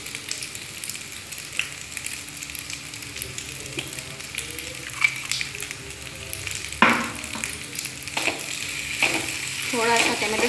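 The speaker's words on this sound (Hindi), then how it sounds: "धीरे इसको चलाते रहना है।" Macaroni pasta being stirred in a pan with red chili sauce, giving a continuous sizzle and frying hiss with occasional spoon scrapes and clacks, moderately loud and close.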